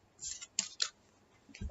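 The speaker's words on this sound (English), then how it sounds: "Cards flipping over here, not cooperating." Tarot cards being flipped over and handled during a tarot reading: a few quick papery slaps and rustles in separate bursts, close and fairly quiet, with no talking.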